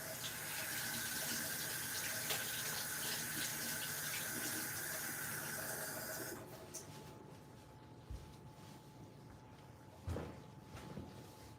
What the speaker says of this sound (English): Just washing the spoon for the semna.